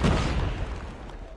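A frag grenade detonates in a shooter game as a single loud, deep boom that rolls off into a rumbling tail over about a second.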